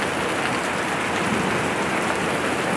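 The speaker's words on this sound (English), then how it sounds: "It's hailing and raining." Heavy rain and hail pour down steadily during a sudden August storm in Nogal, New Mexico, a dense continuous hiss and patter close by, with no voices.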